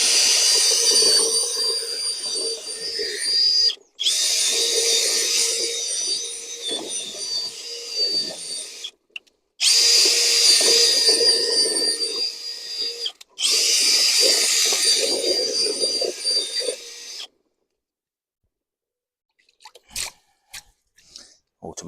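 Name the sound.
Dongchen power drill running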